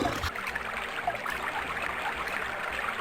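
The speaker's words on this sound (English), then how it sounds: "Oh, an irritating water sound happening." A video game's looping water effect, a continuous gentle trickling and streaming flow at moderate volume, steady throughout with no talk over it.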